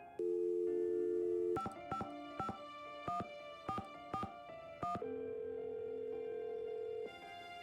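Series of keypad button tones in a Nancy Drew adventure game, several short evenly spaced beeps between longer steady tones, clean and close with no talking.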